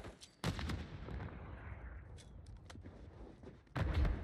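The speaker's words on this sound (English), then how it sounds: "I'm gonna throw a nade here to try and get some early damage." Grenade explosions in Call of Duty on Rebirth Island: a loud broadband blast near the start, a long rumbling decay with scattered distant gunshots, then a second sharp blast at the end.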